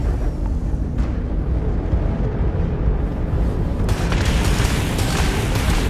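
A Crimson Fleet ship fires its weapons in Starfield, deep booming blasts over a dense continuous roar, with sharper bursts hitting near one second and again near four seconds, loud and close, no voices.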